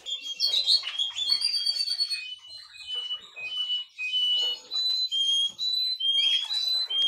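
Canaries kept in cages chirp and trill in dense, overlapping high tweets that run steadily throughout, close and fairly loud, with brief whistled tones and no talking over them.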